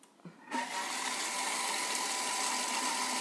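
A Thermomix mixing carrot cake batter at speed 5: after a short quiet moment, the motor starts abruptly and holds a loud, steady whirring hum with a sustained tonal whine.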